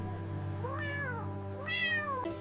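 A thirsty cat meows outdoors in two drawn-out, rising and falling calls, the second louder than the first, over a steady low hum.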